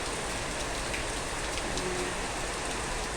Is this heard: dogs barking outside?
no